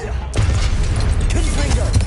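Confringo spell explosions from the Hogwarts Legacy video game: a sudden blast after a brief quiet opening, then a sustained loud rumbling roar with crackling bursts and debris layered throughout.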